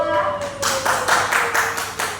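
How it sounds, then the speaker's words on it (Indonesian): A small classroom group claps for a couple of seconds, steady rapid clapping in a room with a faint tone lingering underneath. "Tepuk tangan dulu dong untuk kelompok 2"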